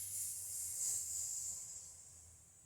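A soft, breathy hiss made by a person imitating an angry cat, drawn out steadily for a couple of seconds and fairly faint.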